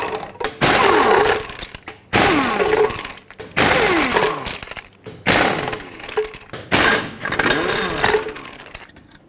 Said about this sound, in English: remove all 6 of your lug nuts